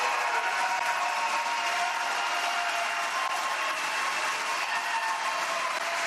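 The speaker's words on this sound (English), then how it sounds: "if the audience can hold their applause" Sustained audience applause at a Republican presidential primary debate, a dense, steady wash of clapping that holds at an even level throughout without any voices breaking through.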